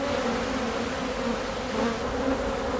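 A dense, steady buzz from a mass of honey bees around an open hive, continuous and close with an even drone and no pauses.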